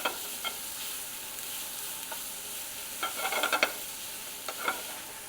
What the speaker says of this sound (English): I'm just going to do it in the frying pan